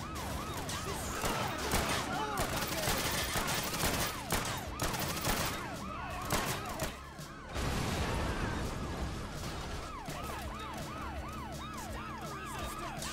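Dense video-game gunfire in Scarface: The World Is Yours, rapid repeated shots layered over wailing sirens and a continuous loud battle din, with only brief dips in intensity.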